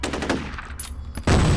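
Gunfire in the first-person shooter F.E.A.R., a dense loud burst of automatic shots that breaks off briefly and then resumes with a heavy roar, no voices.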